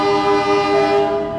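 A loud, sustained horn blast from the Pandalungan train as it pulls out of Probolinggo station, a close, steady, multi-tone tone that fades slightly at the end.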